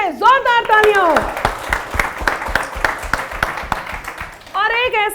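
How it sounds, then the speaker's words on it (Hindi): Audience applause at a televised Hindi talk show, a dense burst of rapid clapping that builds and fades over several seconds, framed by a voice at the start and end. "जोरदार तालियां हो।"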